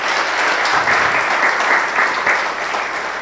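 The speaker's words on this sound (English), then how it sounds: "A round of applause for the President." Steady applause from an audience at a formal memorial lecture for the President, a dense, even wash of clapping that holds at full strength without pause.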